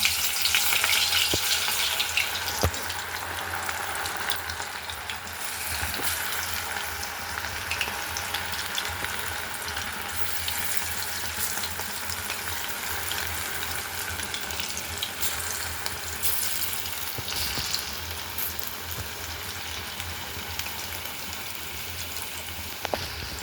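Chicken fries in a pan for a Sunday chicken gravy: a continuous, fairly close sizzle and crackle that runs on evenly with occasional light clinks.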